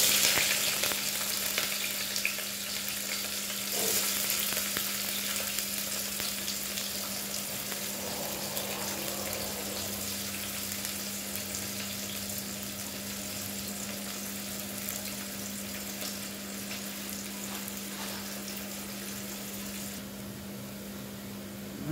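Onions sauté in a pan for an egg curry, giving a continuous, fairly soft sizzle over a steady background hum.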